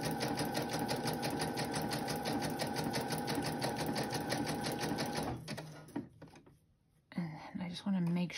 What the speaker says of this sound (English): I hope you guys don't mind watching a little sewing.